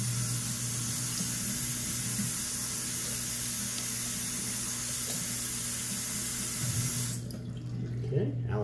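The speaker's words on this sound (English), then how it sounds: "Rinse the alum off." Tap water running into a sink to rinse alum off after shaving, a steady hissing stream that stops abruptly near the end, leaving faint handling sounds.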